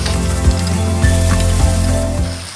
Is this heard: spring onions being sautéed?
yes